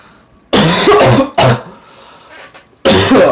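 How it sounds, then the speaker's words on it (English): Three harsh, loud coughs from one nearby person, the first two close together and the last after a short pause, with no other sound between them. "I was stifling a cough there."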